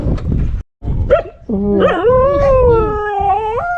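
Dogs in the Garo Hills of Meghalaya bark and then break into long, wavering howls, loud and close, with a brief gap of silence near the start.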